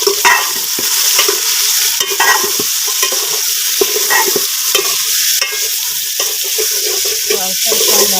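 Chicken frying with salt in a pot for chicken pulao, loud close sizzling under repeated scraping strokes of a spoon stirring against the pan, no talk.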